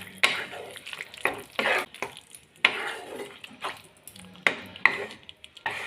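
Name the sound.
frying mushrooms stirred in yogurt spice masala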